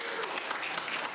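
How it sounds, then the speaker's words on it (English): A live audience at an improv comedy show breaks into dense, steady applause that fills the moment with no pause. "Round of applause for the internet!"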